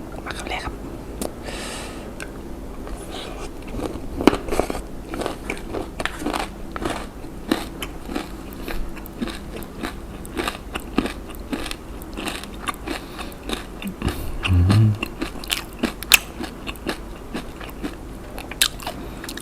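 Close crunchy bites and chewing of spicy green mango salad topped with crispy fish, scattered irregular crunches throughout, with one louder low thump near the end and faint whispery mouth sounds.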